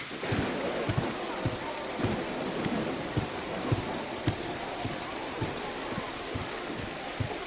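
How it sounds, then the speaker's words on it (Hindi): Steady rainfall hisses across the whole scene in a dubbed drama, with soft periodic thumps beneath it; no distinct thunderclap stands out. "तुम तो बारिश को देखो जिससे फद्दान को कहर से निजात मिलेगी।"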